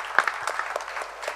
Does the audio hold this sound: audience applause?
yes